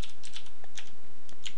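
Keystrokes on a computer keyboard entering a command: a short run of light, crisp clicks, close and fairly quiet, with no talking.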